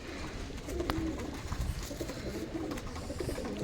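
Several same-generation pigeons coo in low, soft murmurs nearby, with faint rustling and occasional small knocks and no talk.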